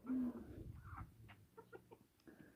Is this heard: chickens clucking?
yes